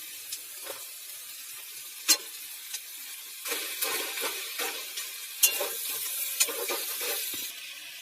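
Spices and vegetables frying in a wok-style pan, a soft continuous sizzle broken by stirring scrapes and sharp metallic clinks of the spoon against the pan, close and unaccompanied by speech.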